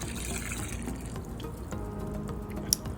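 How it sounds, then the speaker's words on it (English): A milk and water mixture pours into a frying pan on an electric stove, a soft, continuous liquid splash and trickle with a single sharp tick near the end. "there's the milk and water mixture that I put in"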